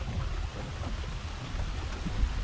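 Light rain falls at a lakeside campground park in Boydton, Virginia, making a soft, steady patter over a low rumble in the background.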